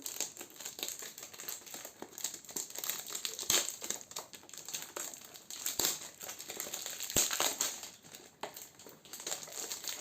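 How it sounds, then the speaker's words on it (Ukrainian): Crinkling and crumpling of packaging while a parcel of Arabic perfume is unpacked by hand, steady rustling close by with a few sharp snaps and taps. "Давайте будемо вже розпаковувати."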